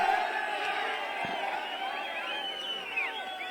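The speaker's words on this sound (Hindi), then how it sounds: "टिमरा के लिए दो तालियां" Spectators at a Jaswi versus Timra tournament match cheer and whoop for Timra, a loud, continuous crowd roar with rising shouts and whistle-like cries, and a commentator's voice is partly audible underneath.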